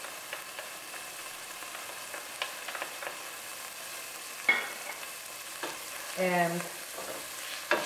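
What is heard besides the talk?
pancetta, onion and hot pepper flakes frying in olive oil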